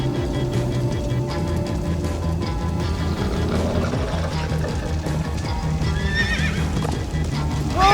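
A horse gallops with rapid rhythmic hoofbeats in Minecraft: Story Mode, then gives several high whinnies near the end, all loud and close.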